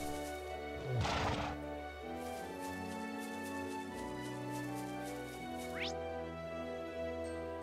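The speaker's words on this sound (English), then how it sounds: "Oh, it's just a horse?" A horse in the role-playing game Trails of Cold Steel 2 gives a single loud whinny near the start, over steady in-game music and ambience, followed later by a short rising tone.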